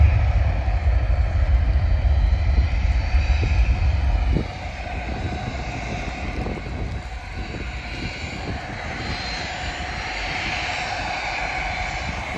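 A TUI airliner at Bristol Airport, a loud broadband engine roar that drops after a few seconds to a steadier, quieter jet whine and rumble heard from outdoors.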